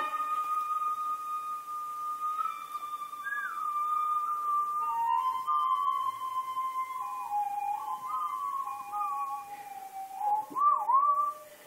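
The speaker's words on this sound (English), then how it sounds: "my whistling is not my strong suit" A person whistles a slow, wavering tune, with sustained notes and slides between pitches, clear and fairly close throughout.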